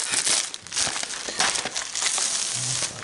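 Crinkling wrapper of a French-language Commander Legends Magic draft booster box being opened, close and busy crackling plastic rustle with scattered sharp crunches throughout.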